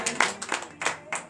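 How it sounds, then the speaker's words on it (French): Congregation clapping in acclamation during a morning prayer service, a burst of rhythmic group hand claps, close and lively. "Donnez l'acclamation à Jésus, alléluia."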